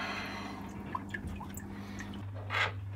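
Water drips from a soaking wet Transcend StoreJet 25M3 external hard drive: a few faint, scattered drips and small splashes over a low steady hum, with a louder watery splash near the end.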